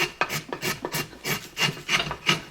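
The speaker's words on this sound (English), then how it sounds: "It's the music of a spoke shave." A spokeshave scrapes along the body of a wooden carved decoy, rounding off hard edges in a steady series of rasping strokes, roughly eight rhythmic pulls heard close and alone.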